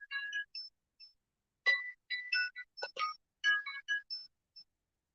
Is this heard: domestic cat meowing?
no